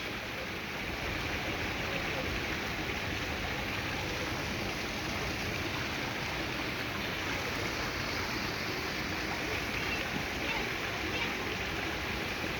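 River water flowing beneath Tenby Bridge on Joes River in St. Joseph, Barbados, makes a steady, unbroken rushing wash that stays even and close throughout.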